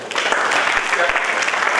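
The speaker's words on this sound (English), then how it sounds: "I think we need to clap for ourselves." Steady, dense applause from an audience of participants at the International Mathematical Olympiad 2023, filling the whole moment with continuous, fairly loud clapping and no pauses.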